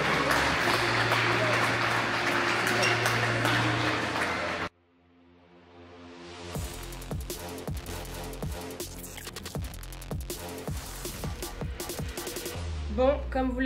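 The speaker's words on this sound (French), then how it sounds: "J'aimerais que vous l'applaudissiez, s'il vous plaît, chaleureusement" An audience at a tennis tournament in Chartres applauds player Pauline Payet: a dense, steady wash of clapping for several seconds that stops abruptly, followed by quieter, different sounds.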